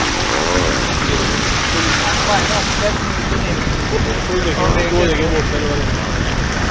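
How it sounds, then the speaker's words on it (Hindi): Heavy rain pours onto a street in Lahore, a dense, steady hiss that fills the scene, with passing traffic underneath and someone talking over it. "बहुत ज़्यादा बारिश हुई थी, शदीद बारिश का शिकार हुए हम।"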